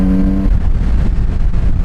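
A Kawasaki Z900RS retro motorcycle on its standard exhaust rumbles loud and close, a steady deep engine drone with a brief tonal whine at the start.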